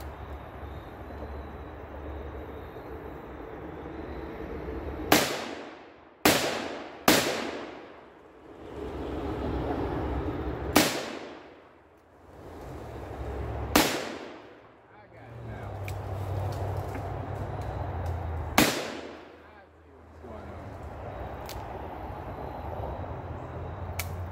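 Taurus Model 44 revolver firing high-powered rounds at 2-liter bottles outdoors: six loud, sharp shots spaced irregularly over about fifteen seconds, each ringing out with a short echo above steady background noise.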